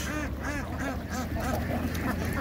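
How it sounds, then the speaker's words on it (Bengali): A dense flock of ducks on a floating duck farm quack rapidly and repeatedly close by, with steady rhythm and no talking. "রঙিন হাঁস, সব রঙিন হাঁস।"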